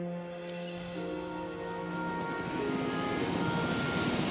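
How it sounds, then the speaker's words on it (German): A helicopter in the video game Jurassic World Evolution drones steadily with a low rotor hum and rising tonal whine, continuous and fairly close, with no speech. "Wie kann ich das Helikopter abstürzen lassen?"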